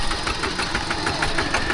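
A farm tractor engine runs close by with a steady, slightly knocking idle rhythm and a constant mechanical vibration.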